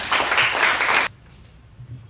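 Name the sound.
class applauding students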